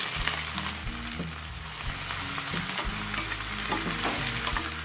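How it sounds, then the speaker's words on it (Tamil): Onions with a little salt sauté in hot oil in a pan for egg biryani, giving a continuous crackling sizzle with stirring scrapes throughout. "இப்போ இந்த வெங்காயம் நல்லா வதங்கணும்."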